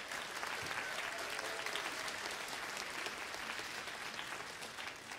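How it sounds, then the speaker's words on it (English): A concert audience applauds a school choir and percussion ensemble at a district clinic, the dense clapping steady and sustained throughout with no voices over it. "Please give another round of applause as well to the choir and the percussion ensemble you just heard."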